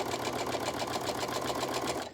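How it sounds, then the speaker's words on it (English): A sewing machine runs continuously at a fast, even pace, chain-piecing fabric patches for a quilt block, with a close, steady mechanical whir and rapid needle clatter. "So I'm going to sew across that line there, and then I'm going to sew across here"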